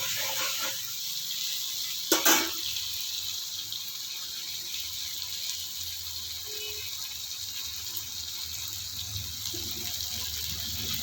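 Water pours steadily into a cooking pot for a vegetarian potato and pointed gourd curry, a continuous close splashing hiss with a brief clatter near the start.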